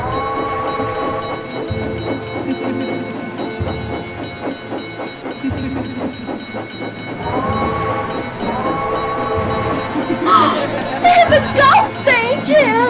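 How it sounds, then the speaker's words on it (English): A rain and thunder sound effect from an audio story rolls on steadily, with a voice and other story sounds layered over the storm. "Just then it started raining"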